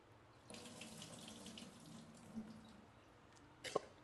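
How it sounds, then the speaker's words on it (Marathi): Water runs from a kitchen tap into a bowl of overnight-soaked chickpeas being rinsed, a soft steady splashing that swells slightly, closing with a couple of sharper clunks and splashes. "आता यामधलं पाणी काढून घेते आणि स्वच्छ धुवून पाणी काढून घेते"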